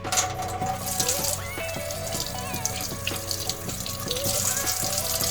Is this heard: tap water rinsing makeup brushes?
yes